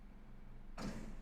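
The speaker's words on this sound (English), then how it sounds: "That's a plane and somebody closing a door." A door is closed somewhere outside, heard as one sudden, muffled, fairly distant shutting sound after a quiet stretch of low background hum.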